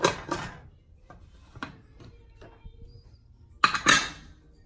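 A container of mixed yogurt for bhapa doi is set into a mould inside a cooker, giving a few close clattering knocks of metal and vessel, a burst at the start and another near the end, with quiet gaps between.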